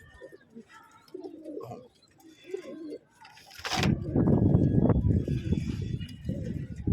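Pigeons cooing at a loft of pigeons kept for sale, low soft coos at moderate distance, followed by a louder burst of flapping and rustling with someone speaking over it.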